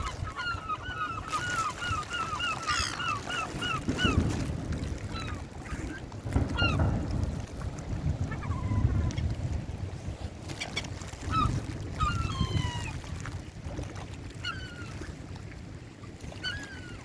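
Geese honking repeatedly beside a canal while being fed bread on a cold, windy day, several birds calling in bursts close by over gusty wind noise.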